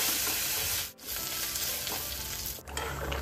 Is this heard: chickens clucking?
no